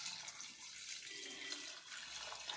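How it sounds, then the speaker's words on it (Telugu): Water poured into a bowl for a tea decoction makes a steady, faint splashing stream, heard alone without voices. "నీళ్ళు పోసి"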